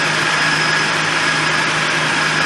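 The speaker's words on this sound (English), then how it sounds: "So we're going to continue with the engine operating" A Nissan VG33E V6 engine running steadily with a loud, constant whirring drone and a faint high whine, heard up close with no voices.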